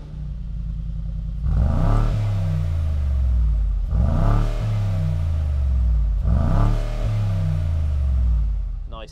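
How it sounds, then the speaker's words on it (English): A deep Brabus G800 (Mercedes-AMG G63) V8 engine idles with a low rumble, exhaust open, then revs hard three times in succession, each rise loud and near before settling back. "Nice thunderous startup."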